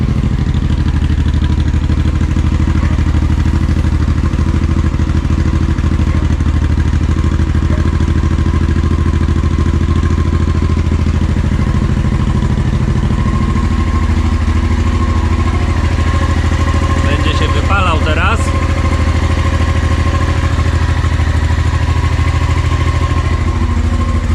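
Honda XL650V Transalp motorcycle with a new exhaust manifold idling steadily up close, a loud continuous low rumble with faint clatter throughout, no voices.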